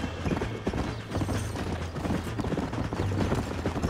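Horse hooves clip-clop in quick, steady rhythm in the Red Dead Redemption video game, close and fairly loud, with mechanical rattles and brief gunfire-like bursts mixed in.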